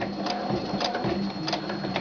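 A sewing machine stitches MOLLE webbing, running in a fast continuous whirring rhythm with light mechanical ticking throughout.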